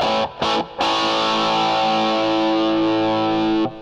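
Heavily distorted electric guitar strums a few short chords, then lets a thick, compressed chord ring out loudly for several seconds before cutting off.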